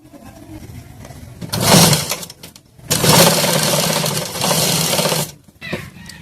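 A sewing machine stitches a katori piece of a blouse in two bursts, a short run followed by a longer steady whir, fairly close with quiet pauses between.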